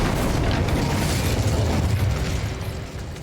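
Incendio fire spell cast in the Hogwarts Legacy video game, a loud, dense roaring burst of flame that sustains for about two seconds before slowly tapering off.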